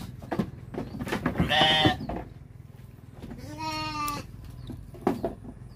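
Sheep in a small fattening pen for twelve animals give two clear, wavering bleats, one early and one later, close by, amid quieter pen rustling.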